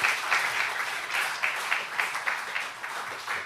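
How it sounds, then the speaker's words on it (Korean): A church congregation at a Sunday service claps in encouragement, the applause sounding moderately loud and rhythmic, with small surges and dips. "우리 이분들에게도 박수 한번 서로 격려해 주시죠."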